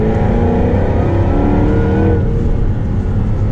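A supercharged V8 Jaguar F-Type R accelerates hard on a lakeside run, its engine note loud and close as it climbs steadily in pitch, then eases slightly near the end while the car whirs on.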